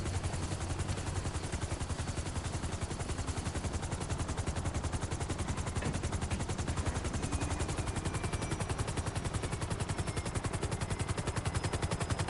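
Rapid continuous explosive gunfire from an Annihilator helicopter in GTA Online, a dense unbroken machine-gun rattle that stays loud and even throughout with no pauses.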